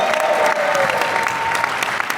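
A large crowd at an evening political kickoff event applauds and cheers, a dense, steady wash of clapping that stays loud and close throughout.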